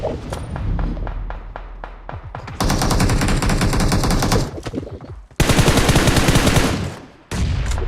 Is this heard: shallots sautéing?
no